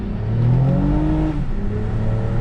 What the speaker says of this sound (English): like this car sounds decent. Like, I mean, it sounds like a V6, but like it sounds good